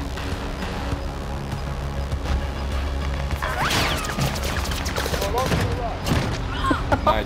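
Gunfire in the video game Warzone crackles in scattered shots and bursts with crashing impacts, mixed with game noise under a player's voice.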